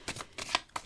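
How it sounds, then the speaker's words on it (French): Tarot cards being shuffled by hand, heard close as a rapid series of about four short papery riffles and swishes packed into one second. "même en mélangeant les cartes"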